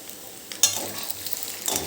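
Green peas are stirred into a frying khato lot dish in a pan, a soft sizzle with a sharp scrape at the start followed by a few gentle stirring strokes, close and fairly quiet.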